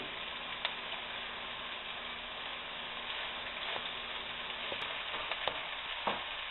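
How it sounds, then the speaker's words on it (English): Cabbage greens stir-frying in a skillet give off a steady, dense sizzle with occasional faint clicks of stirring. No one speaks over it. "we're going to go ahead and add the cabbage"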